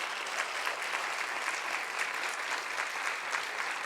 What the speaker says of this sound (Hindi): एक ताली हो जाए जोर से हमारी महिलाओं के लिए